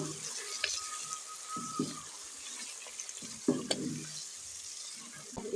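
Liver stirred in a pan with salt, turmeric and red chili powder, a soft sizzle under intermittent scraping and clinks of a spoon against the pan, quiet and close.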